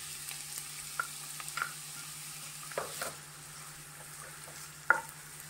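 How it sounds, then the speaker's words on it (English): Onion sauteing in hot oil in a pan for stuffed eggplant, a soft steady sizzle with a few sharp clinks and stirring scrapes, fairly quiet and without speech. "In order to saute the onion, I will add onion."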